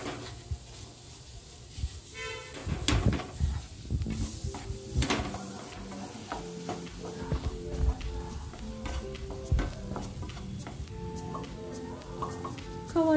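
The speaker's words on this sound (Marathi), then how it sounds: "खवा आता चांगला भाजून झाला आहे" Khawa roasts in a pan while a spoon stirs it, giving soft scraping and clinks against the metal along with a few louder knocks and clatters. A faint low sizzle sits underneath and no one speaks.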